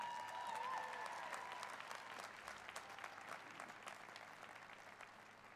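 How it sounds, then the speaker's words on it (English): Convocation audience applause at a spring college ceremony, a dense sustained clapping from a large crowd that gradually thins and fades over several seconds, heard from a distance without talk. "So maybe another round of applause for them"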